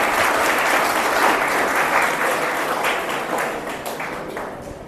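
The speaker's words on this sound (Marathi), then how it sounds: "त्यासाठी एकदा जोरदार टाळ्या तुमच्यासाठी" Loud, sustained applause from an audience at a Marathi language day event in a school hall, dense clapping filling the whole stretch and easing slightly toward the end, with no speech over it.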